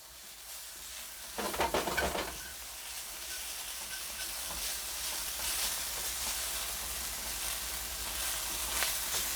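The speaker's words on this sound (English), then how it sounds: "That means the sugar and the onions are caramelizing" Onions and sugar caramelizing in a pan, a steady close sizzle and hiss with a short burst of stirring and scraping near the start, continuing evenly afterward.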